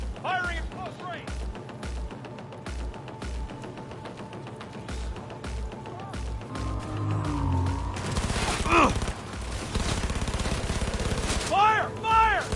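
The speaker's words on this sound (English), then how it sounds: "Firing at close range!" Gunfire exchanged at close range in the video game Cyberpunk 2077, with bursts of shots layered over game sounds and voices, rising louder and denser toward the end.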